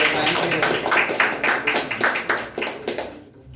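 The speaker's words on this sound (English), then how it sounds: "Well done, clap for Mike." An audience claps for a participant at an on-stage event, a run of loud, fairly regular claps that thin out and fade away near the end.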